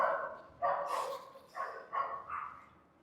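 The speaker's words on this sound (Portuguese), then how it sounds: "Deixa os cachorros brigar primeiro." Dogs barking and snarling in a scuffle, a run of several harsh bursts close by, loud and alone with no talk over them.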